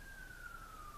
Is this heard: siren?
yes